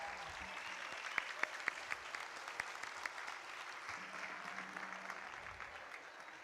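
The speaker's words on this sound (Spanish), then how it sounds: "Arriba Gallego, un aplauso bien fuerte," Audience applause at an annual gala: a steady wash of clapping from a large crowd fills the whole stretch, with a few sharper claps and faint cheering on top, and no talk over it.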